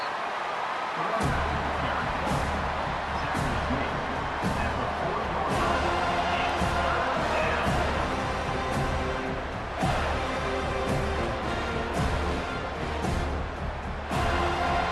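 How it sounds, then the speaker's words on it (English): Football stadium crowd on third down, a broad dense roar swelling and holding steadily for many seconds, loud and continuous with occasional sharper bursts. "Decibels rising as the crowd gets behind this defense on third down"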